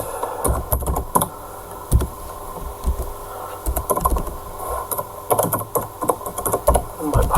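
A password is typed on a computer keyboard in quick, irregular bursts of close clicking keystrokes with short pauses between them, alone without talk.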